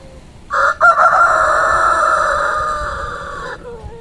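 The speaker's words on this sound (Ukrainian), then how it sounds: "сусідський півник е, дав голос." A nearby rooster crows once, a loud, drawn-out call lasting a few seconds over quiet background noise.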